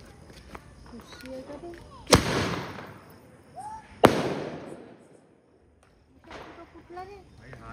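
Two sharp firecracker bangs burst nearby during Diwali celebrations with family, each a loud crack trailing into a decaying rumble, separated by about two seconds, with people chatting and exclaiming around them.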